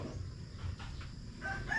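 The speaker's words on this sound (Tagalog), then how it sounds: "Mga manok ito." A rooster crows among chickens in a rural yard near a soursop tree, a short, fairly faint call over low background rumble with no talking.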